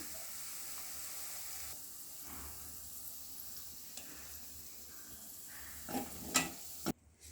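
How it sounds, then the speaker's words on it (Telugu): Okra or vegetables sizzling as they fry in oil in an open pan with no lid, a steady close crackling hiss throughout, with a few louder spits and stirring clatters near the end before it cuts off. "మూత పెట్టకుండానే ఇలానే ఫ్రై చేసుకుందాం"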